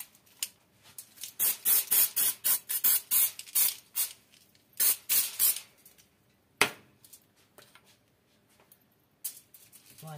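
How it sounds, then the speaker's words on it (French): Velvet spray hisses in repeated short bursts onto a chilled strawberry-raspberry-matcha heart dessert, close and fairly loud, with pauses between sprays and a few faint clinks. "protégez bien votre plan de travail parce que c'est très difficile à nettoyer le spray en velours"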